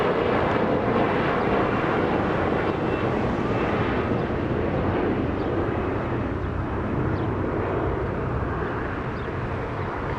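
A jet airliner takes off from runway 25 Right at Los Angeles International Airport, with a loud, steady, broadband roar that fills the whole clip.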